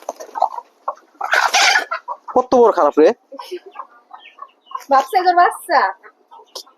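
A chicken clucks and squawks in agitated bursts as pigeons attack it in a pigeon coop, with people talking nearby throughout.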